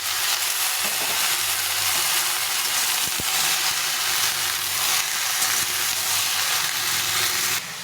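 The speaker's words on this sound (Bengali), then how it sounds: "সবজিটা একটু ভাজা ভাজা হোক" Radish, ridge gourd and pumpkin mixed together fry in a pan with a steady, dense sizzle and light stirring sounds, close and continuous with no talking.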